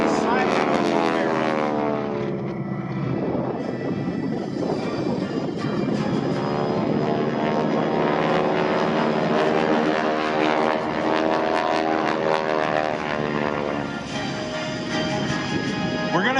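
A propeller aerobatic airplane performs a barrel roll at the Dayton airshow, its engine droning loudly and steadily and shifting slightly in pitch through the maneuver, with a commentator talking over it throughout.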